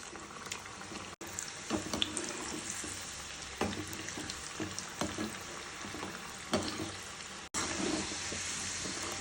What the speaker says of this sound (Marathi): आता आपण थोडे थोडे ह्याच्यामध्ये टाकूया शंकरपाळी आणि तळून घेऊया